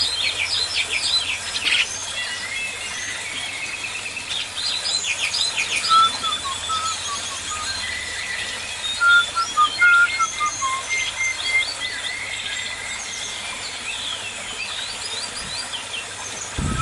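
Young white starlings (jalak putih), three and four months old, chirp and whistle repeatedly while being released from an aviary, a busy mix of high twittering calls at close to moderate distance against steady background noise.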